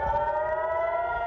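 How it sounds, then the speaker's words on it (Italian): An air raid siren sounds in Jerusalem, a loud steady wailing tone held without a break, with no speech. "Il suono delle sirene"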